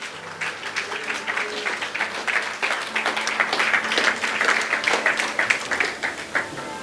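A church congregation applauds in a sustained, moderately loud wash of many hands clapping, swelling slightly midway and holding steady to the end.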